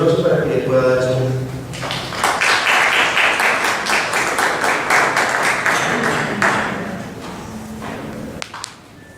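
An audience at an academic celebration marking twenty years of the journal Goliardos gives a strong round of applause for an anthropology professor. The dense clapping follows a brief voice, swells for several seconds, then tapers away.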